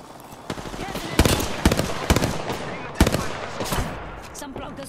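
Bursts of automatic weapon fire in the battle royale shooter Apex Legends, with several sharp clusters of close shots in uneven rhythm over a steady game backdrop.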